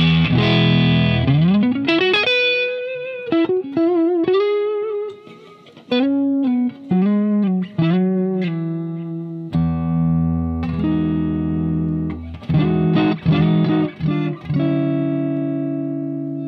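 A Vintage V6 Stratocaster electric guitar is tuned through an effects chain, with single plucked notes and bent pitches sliding into place, then sustained strummed chords, loud and close with a slightly distorted tone.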